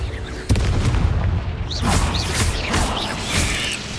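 A Confringo spell blasts in Hogwarts Legacy with a sharp boom, then rumbling debris and whooshing magical effects under a continuous game soundscape.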